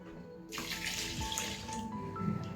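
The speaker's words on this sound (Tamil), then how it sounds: "தேவையான அளவு தண்ணி ஊற்றிக்கலாம்." Water pours in a steady stream into a pot of fish curry, a continuous splashing flow that starts abruptly and runs on evenly.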